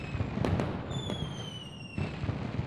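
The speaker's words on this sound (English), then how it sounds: "can hear the fireworks, but I don't know where they're coming from" Fireworks bursting and crackling in the city-building game Rise of Industry, a steady stream of pops and bangs with whistling streaks, continuous and moderately loud with no talking.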